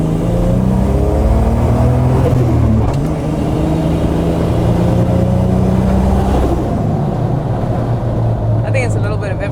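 A Nissan GQ Patrol engine with a custom 89mm Powerflow exhaust runs loud and close, a deep steady rumble whose pitch rises and falls as it revs.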